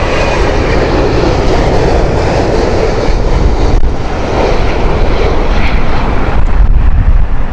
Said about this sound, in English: This is Virgin's 787-9